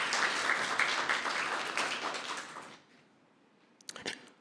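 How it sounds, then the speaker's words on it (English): A hall audience at a school debating competition breaks into steady, dense applause for four debaters for nearly three seconds, then fades to a quiet room with a few scattered knocks near the end. "can we have a round of applause, please?"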